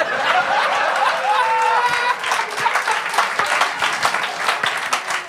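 Steady applause from a TV studio audience, fading into scattered clapping mixed with some laughter and chatter.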